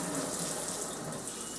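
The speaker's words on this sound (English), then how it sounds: "Lift the knob to divert water to the wand." Water streams steadily from a Dishmaster M76 faucet's spray wand in a sink, a close, continuous hissing rush with no talk.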